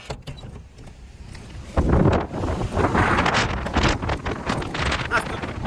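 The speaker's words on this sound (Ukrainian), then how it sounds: "на дворі великий вітер" Strong wind outdoors buffets the microphone in loud, rumbling gusts after a quieter start, roaring unevenly throughout.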